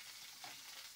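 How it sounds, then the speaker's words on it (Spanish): Eggs sizzle and fry in a pan with melted butter, a soft, steady crackle close by with no talking. "Y ahí se van a estar haciendo nuestro huevito frito"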